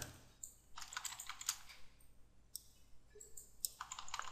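Quiet, scattered clicks at a computer while keyframes are inserted in Flash animation software, coming in short irregular bursts close to the microphone with no talking.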